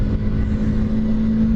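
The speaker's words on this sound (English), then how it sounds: "I love the sound that the engine makes." A 2021 BMW G310R motorcycle engine runs close by with a steady, buzzing drone and a strong low tone, holding a fairly constant pitch, loud and unbroken with no talking.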